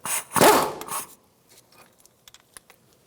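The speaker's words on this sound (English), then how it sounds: "Using a 12mm socket, I'm going to take out this bolt for the brake hose bracket" A 12mm socket on a ratchet backing out the brake hose bracket bolt on a 2014-2019 Kia Soul, opening with a loud rasping burst of ratcheting, then a string of faint, scattered ticks and clicks close by, with no talking.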